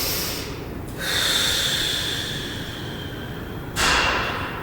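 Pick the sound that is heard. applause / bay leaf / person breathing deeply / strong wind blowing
person breathing deeply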